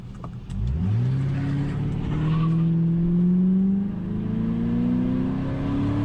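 A Mercury Grand Marquis with a 4.6 V8 and the muffler deleted revs up loudly, its raw exhaust drone climbing in pitch, holding, then easing slightly before rising again.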